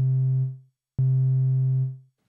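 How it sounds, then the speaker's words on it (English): A synthesiser plays a low, pure sine wave tone twice. Each note holds steady for about half a second to a second, fades out smoothly, and is separated by brief silence. "A sine wave is the purest form of synth waveform."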